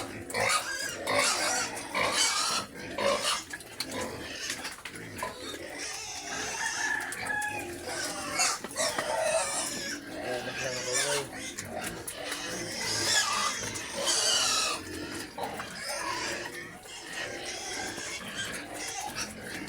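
A herd of pigs grunts and squeals continuously at close range, with chickens clucking and a rooster crowing in the mix, forming a dense, busy farmyard din.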